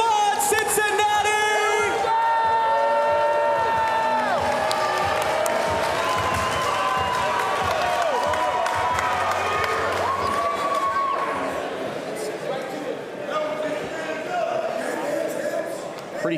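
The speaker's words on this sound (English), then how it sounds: "Cheer 'em on, Cincinnati!" Arena crowd at a Cincinnati fighting championship main event roars and cheers continuously, loud and dense, with whoops and shouts over music-like tones and an announcer's voice throughout.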